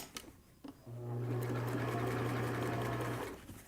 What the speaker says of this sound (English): now we're back to following our nice straight sewing seam, 3/8 inch sewing seam